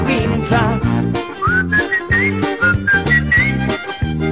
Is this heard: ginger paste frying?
no